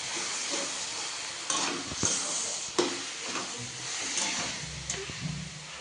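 Tomato chutney cooks in a pan, giving a steady soft sizzle and hiss broken by a few sharp stirring scrapes and clinks. It stays fairly quiet and close, with no talking.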